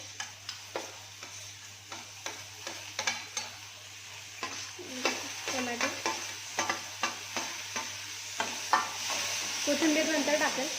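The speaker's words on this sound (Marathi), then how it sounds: "याला नॉर्मल असं परतून घेते आणि लगेचच टाकते याच्यामध्ये शिमला मिरची" Capsicum sautéing in a pan with onion, a soft sizzle under repeated spatula scrapes and taps that come in a steady rhythm, close by, while a faint hum runs underneath and no one speaks.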